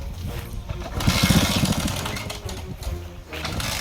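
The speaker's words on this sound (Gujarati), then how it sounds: "બાઈક આગું કરો ચાલુ કરો" A motorcycle engine cranks and sputters, rattling loudly up close with uneven revving that fades and picks up again.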